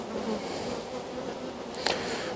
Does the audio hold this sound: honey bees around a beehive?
yes